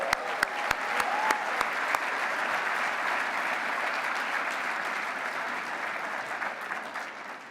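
Steady audience applause filling a banquet hall at an entrepreneur-of-the-year awards event, a dense wash of many hands clapping for several seconds, with a few sharp closer claps at the start.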